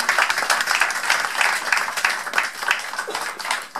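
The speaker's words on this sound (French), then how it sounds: "On applaudit très fort pour ça." Audience applause at a general meeting of a foundation in Paris, a steady wash of many hands clapping that holds throughout without a break.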